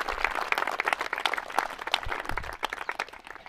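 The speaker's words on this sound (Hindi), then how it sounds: "जोरदार ताली।" A group claps hands in applause at a morning exercise gathering, a dense stretch of sharp claps from many hands, fairly close, loud at first and thinning slightly near the end.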